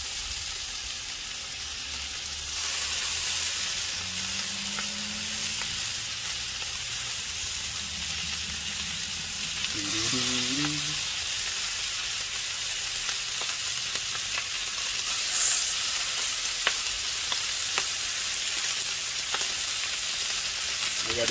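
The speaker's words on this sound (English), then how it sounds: "Ooh, you hear that sizzle action?" Steady, loud sizzling of bacon frying on a hot griddle, a continuous crackling hiss with occasional soft scraping and a few faint tonal sounds.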